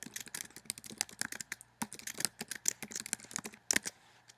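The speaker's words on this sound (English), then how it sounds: "I would type in my announcement that they need to know, hit enter" Quick keystrokes on a computer keyboard, close and clear, forming an uneven stream of clicks with a couple of sharper taps and no talking.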